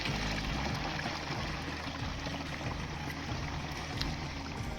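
Water pouring into a pipe for a pesticide sprayer in a groundnut field, a continuous loud rushing gush that stays steady throughout without breaks.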